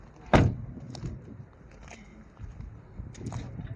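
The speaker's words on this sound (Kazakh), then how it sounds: "Есіктердің барлығы ашып көріп жатырмыз." Used car at a car market, with one sharp, close door slam, then quieter clicks and thuds as other doors are opened and shut, over low background noise.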